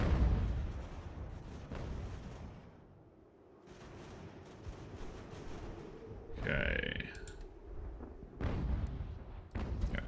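Cannon fire in the Ultimate General: American Revolution battle game, deep booming blasts and rumbling volleys rising and falling under game ambience, with a few distinct impacts and no speech.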